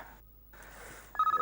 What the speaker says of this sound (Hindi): बाप रे, 12 बजे गिल्ली का ही फोन होगा।